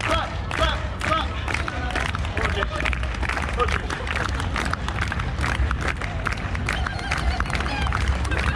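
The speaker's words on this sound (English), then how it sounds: "All I need from you now is a slow hand clap." Street show crowd at Darling Harbour, Sydney, clapping in steady repeated beats before a chainsaw juggling act, dense hand claps running throughout with crowd babble underneath.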